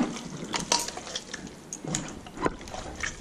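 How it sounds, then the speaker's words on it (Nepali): Masala spices being rubbed by hand into mutton for a spicy curry, giving soft, irregular squelching and scraping sounds close up, with light clinks of a bowl or dish. "यो राखेको मसलाहरु चाहिँ सबै अब मासुमा मोल्छु"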